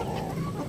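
A brief burst of chickens clucking, backyard hens close by, a soft rough chatter lasting under a second.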